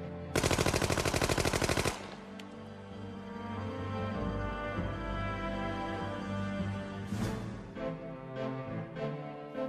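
A military machine gun fires a dense, rapid burst lasting nearly two seconds, loud and sharp. It is followed by a lower rumbling tail, and a few softer scattered shots come after.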